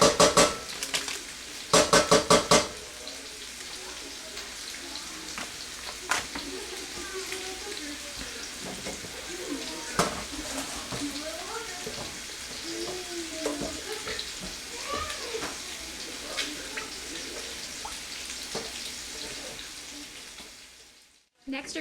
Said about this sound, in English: you're going to take 1 stick of butter and put it into a pan. And you're going to want to melt it completely